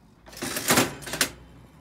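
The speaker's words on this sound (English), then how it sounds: "The old one-armed bandits." An old one-armed bandit slot machine is played, giving a short mechanical burst of whirring and clattering with a couple of sharp clunks, close by and without speech.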